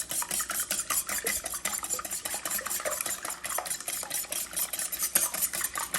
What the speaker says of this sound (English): We're going to go ahead and whisk those up.